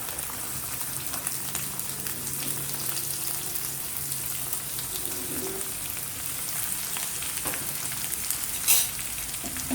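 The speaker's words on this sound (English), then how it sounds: "Now let us add the onions." Onions sauté in a pan for aloo methi sabji, a continuous crackling sizzle like light rain, close and steady, with a brief louder scrape near the end and no talking.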